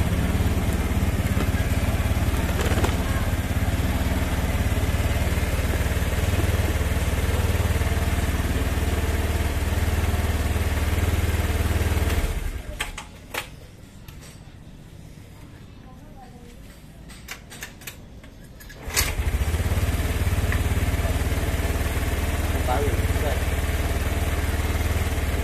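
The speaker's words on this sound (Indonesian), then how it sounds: "karena langsamnya masih terlalu tinggi, kita setting ini turun" Motorcycle engine idling too high while its carburetor is being adjusted, a steady loud mid-pitched running drone that drops out abruptly for several seconds midway and then resumes just as strong.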